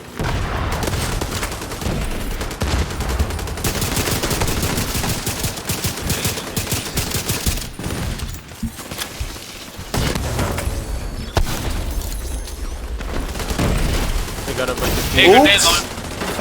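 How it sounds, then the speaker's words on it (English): Heavy weapon fire from a grenade launcher in The Division 2 video game, in fast continuous bursts of shots and booms against NPC enemies, with a voice shouting briefly over the din. "grenade launcher! Grenade launcher! Grenade launcher!"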